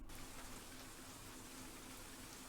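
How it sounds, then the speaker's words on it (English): Rain in the Cemetery Mary video game, a soft continuous hiss of falling rain, faint and even for a few seconds with no other sounds. "Until I woke up to the sound of rain."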